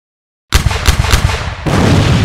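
Dense battle gunfire in an animated naval war story about the destroyers Yukikaze and Tan Yang, with a rapid string of loud close shots that gives way to a steady roar of continuous firing and blasts.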